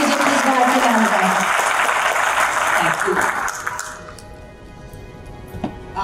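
An audience claps loudly and steadily for a few seconds to welcome Mrs. Bharti Singh to the stage at a student event, then the clapping fades into quieter room sound.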